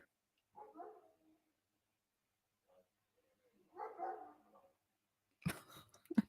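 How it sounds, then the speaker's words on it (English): Dog barking outside a home, heard as a few faint, distant barks in separate bursts across otherwise quiet air, ending in a louder, closer burst of sound. "Now my dog is barking outside."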